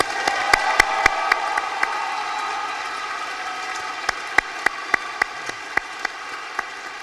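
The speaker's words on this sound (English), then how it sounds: "So if we could give them one more round of applause." Audience at the KCAD commencement ceremony giving a round of applause that thins quickly into scattered, separate hand claps echoing in a large hall.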